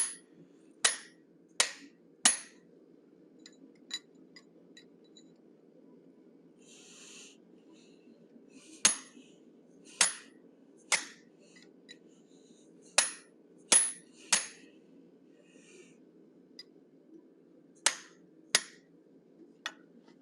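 A hammer drives a triangular pointed punch into forged steel, striking a dozen sharp metallic blows in uneven pairs and clusters over a steady low hum, each hit crisp, close and ringing briefly.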